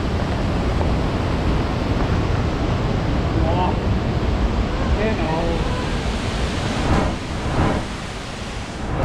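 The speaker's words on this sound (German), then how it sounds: "Wir sind jetzt gerade am Wasserfall" A waterfall in Bali gives off a loud, continuous broadband roar of rushing water that holds steady throughout, with voices faintly present under the noise.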